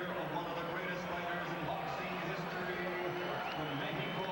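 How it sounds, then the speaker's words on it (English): Boxing arena crowd roars and applauds in a full house after a stopped bout, a dense steady wash of cheering and clapping throughout with no pause. "Ladies and gentlemen, how about a round of applause for the glorious career"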